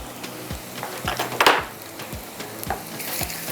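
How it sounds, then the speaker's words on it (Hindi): Steady sizzling of kebabs frying in a pan with onions, with a few stirring and scraping clinks and one louder burst of spatter midway. "हमारे कबाब फ्राई हो रहे हैं"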